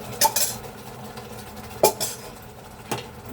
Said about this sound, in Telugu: పప్పు బాగా మెదుపుకోవాలి ఫ్రెండ్స్, బాగా మెదపండి.